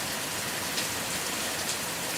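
Steady rain falling during a storm, a dense continuous hiss of drops on surfaces with no talking.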